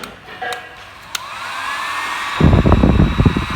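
A heat gun switches on and ramps up to full power, its steady blowing roar swelling loudly after a few faint clicks, aimed near a tight crankshaft bolt on a 2007 Ford Focus 1.6.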